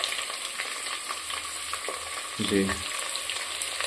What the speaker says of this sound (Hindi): प्याज डालकर जी हल्का इसे फ्राई करना है